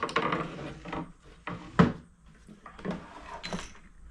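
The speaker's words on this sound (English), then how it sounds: "First thing we'll do is get the drawers out." Drawers are pulled out of a wooden Gerstner tool chest, giving several short wooden slides and knocks at irregular intervals with one sharper clunk, close by and fairly quiet.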